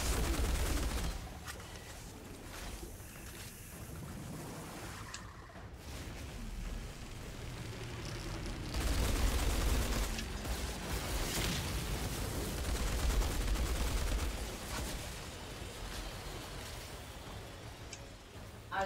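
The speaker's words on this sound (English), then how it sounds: "Follow the gunshot." Dense, crackling gunfire in the video game Outriders rattles on continuously at a moderate distance, with bursts swelling and easing over a steady roar.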